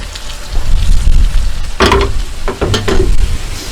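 Sizzling and crackling of ground beef frying in a pan, a steady hiss with brief louder bursts of spattering and the occasional scrape of stirring.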